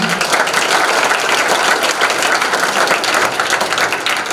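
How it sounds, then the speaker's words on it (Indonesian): Audience at a seminarians' retreat applauds the priest after a session, steady dense clapping filling the room from start to finish with no talk. "berikan tepuk tangan untuk Romo."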